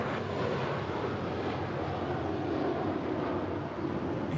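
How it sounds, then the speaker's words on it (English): An American Airlines Airbus A321 departing LAX for Dallas-Fort Worth produces a steady, broad jet engine roar, distant and continuous, with some wind buffeting. "Here's another departure to Dallas-Fort Worth on an A321 with American."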